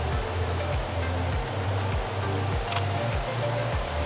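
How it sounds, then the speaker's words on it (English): Wli waterfall in a mountain setting roars as a dense, continuous rush of water, close and loud, with low rhythmic thumps from movement nearby and no talk. "They call it the Wuli waterfall."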